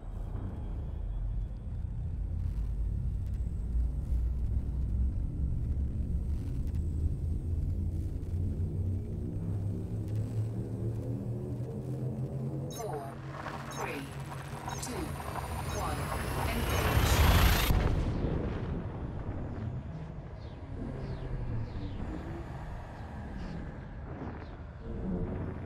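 A frame shift drive in a space game charges with a low rumble that builds into rising, sweeping tones, peaks in a loud surging jump, then gives way to a fading roar.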